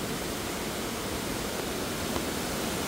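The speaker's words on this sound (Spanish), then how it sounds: "Y se vino más fuerte la lluvia" Steady, dense rush of heavy rain in El Salvador, a continuous broadband hiss with no pauses and no voices.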